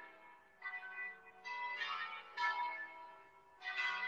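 Church bells ringing in a long peal, several bright metallic strikes overlapping and ringing out at moderate distance with no voices over them.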